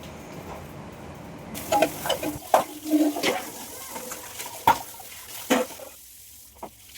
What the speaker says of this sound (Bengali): এখানে থালাগুলো ধুয়ে নেব